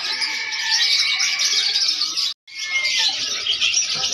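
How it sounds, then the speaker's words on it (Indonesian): Dense, continuous canary chirping and trilling, loud and close, at a bird market, with a brief gap near the middle before the singing resumes. "burung kenari"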